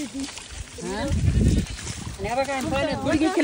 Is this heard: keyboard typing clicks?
no